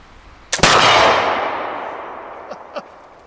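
A smoothbore flintlock muzzleloader fires one loud, sharp shot outdoors, its boom ringing and decaying slowly over a few seconds, followed by two faint distant knocks.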